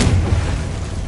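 Confringo blasting spell explosion in Hogwarts Legacy, a single loud, close boom with heavy low rumble that decays over about a second, no voices.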